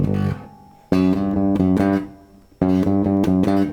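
Bass guitar riff in G built on a major seventh, with clear plucked notes in a driving, repeated rhythm, played alone with brief gaps between phrases.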